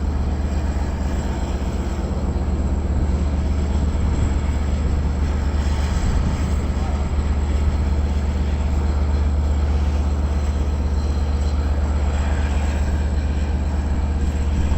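The Long Island Rail Road Cannonball rumbles past at Westhampton, a loud continuous low diesel drone and rolling wheel noise sustained steadily throughout, close by and with no voices.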